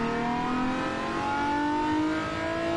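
A naturally aspirated car engine in a racing game revs hard and steadily, its pitch climbing smoothly and continuously as the car accelerates, loud and close with no talk.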